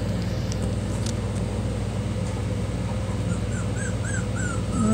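A mother dog with her two-week-old puppies whimpers softly in short, rising whines toward the end, faint over a steady low hum of traffic or a motor nearby.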